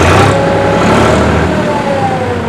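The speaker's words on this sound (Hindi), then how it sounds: "और जो इंजन का साउंड है" A loud, steady engine drone from a Powertrac Euro 439 Plus 45 HP tractor with a slowly shifting pitch, running continuously close by with no other sounds.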